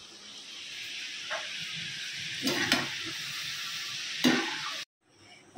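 Nimki flour snacks frying in very hot oil, a steady soft crackling sizzle with a few clinks and stirs, fairly faint, ending in sudden near silence.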